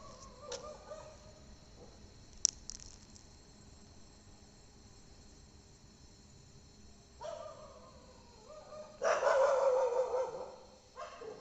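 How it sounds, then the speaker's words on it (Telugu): A dog barks outside a house at night, a few scattered yelps and a louder burst of barking near the end, set against a steady chorus of crickets and insects in the dark. "కుక్క చూడండి మా ఇంటి బయటే ఉంది"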